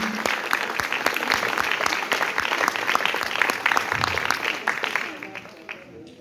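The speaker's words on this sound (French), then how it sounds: "applaudissez pour vous-même" An audience claps for itself at a spoken-word poetry performance, a steady dense patter of many hands at moderate loudness that thins out and fades near the end.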